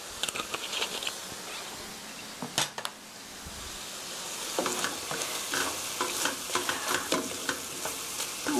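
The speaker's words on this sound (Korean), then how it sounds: "케첩과 소스가 잘 볶아졌으면" Ketchup and sauce stir-fried in a pan for Korean braised tofu, a steady close sizzle carrying scraping stirring strokes, louder and busier in the second half, with no talking.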